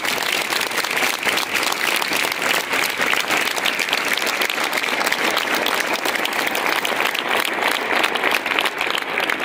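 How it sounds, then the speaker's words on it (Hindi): Students at a school assembly clap hard for the guests, a loud, sustained burst of many hands with quick uneven crackle running the whole time. "आज के असेंबली में जो हमारे गेस्ट हैं इन सबके लिए आप जोरदार तालियां बजाएं"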